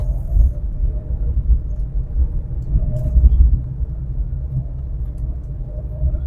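Low engine rumble and road noise from inside a moving car, steady and continuous with slight surges, no voices.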